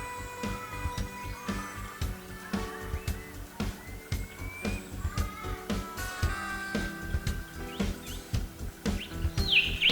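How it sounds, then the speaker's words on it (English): Brown cuckoo dove calling in Australian rainforest, repeated rhythmic cooing notes mixed with other birds chirping and clicking nearby, a dense layered chorus throughout. "The call of the brown cuckoo dove is one of the most common rainforest sounds."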